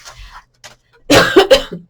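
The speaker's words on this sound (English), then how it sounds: "Coughing in the mic" A single loud cough close to the mic, following a few faint murmured sounds.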